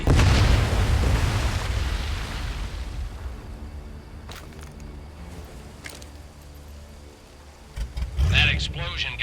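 A lighthouse explodes in the VR game Medal of Honor with a loud, low booming blast at the start. It fades into a long rumbling, creaking decay with scattered clanks, and a second loud burst of debris comes near the end.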